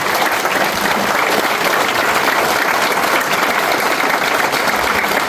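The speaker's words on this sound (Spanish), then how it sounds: "Un fuerte aplauso para ellos" Loud, sustained applause from a crowd gathered at a memorial for martyrs at a ranch, continuous dense clapping filling the whole stretch without pause.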